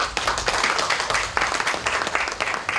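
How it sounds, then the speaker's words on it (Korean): Applause at an enlarged executive meeting of the Democratic Party of Korea, loud close-up clapping from a room of party officials in a dense, uneven patter that holds steady throughout with no talk. "박수로 환영해 주십시오."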